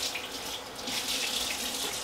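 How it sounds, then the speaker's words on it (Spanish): A kitchen tap runs steadily as a cloth is rinsed under plain water in a home sink, a soft, even splashing rush with no talk. "ahora lo voy a enjuagar el trapo con agua sola"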